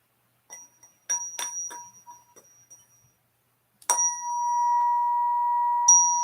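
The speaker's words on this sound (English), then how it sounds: "They need to get their little bell on here." Bright little bell dings on a live stream, a few quick tinkling strikes early, then a sustained ringing chime that holds and is struck again near the end, clear and alone.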